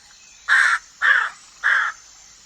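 Crows perched in a banyan tree give three loud, harsh caws, each about a quarter second long and spaced evenly apart, close by against near silence.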